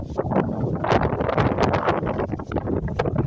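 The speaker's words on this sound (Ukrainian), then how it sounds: "Ой, як вітер горний." Strong gusty wind buffets the microphone outdoors in a yard with trees. The roar is loud, rough and continuous, with rustling surges and no talk over it.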